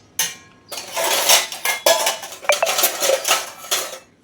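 Wet metal dishes and pots set down one after another on a cot in a village home during light drizzle, giving a run of close clattering clinks and clanks with a couple of sharp ringing taps, no talking.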